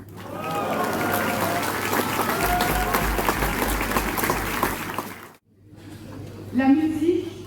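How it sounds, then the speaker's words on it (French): An audience at the Vibrato 2024 music event in Levron gives loud sustained applause, clapping steadily for about five seconds before cutting off, then a softer burst follows with some voices. "et je crois qu'on peut les applaudir."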